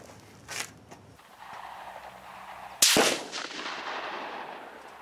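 A single sharp K31 rifle shot fired with reloaded GP11 brass cracks loudly at an outdoor range, followed by a long fading echo, with a softer distant report just before it.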